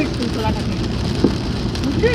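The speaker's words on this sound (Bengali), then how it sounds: "দেখো বৃষ্টি হচ্ছে বাইরে" Steady rain pattering on a surface outside, a dense even wash of drops with a brief sharp tap partway through; a voice murmurs faintly in the background.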